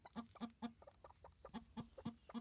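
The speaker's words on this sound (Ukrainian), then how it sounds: "Вона зараз так буде кричати, так як квочка." A broody hen clucks steadily in short, regular clucks, fairly quiet and close, with no talking.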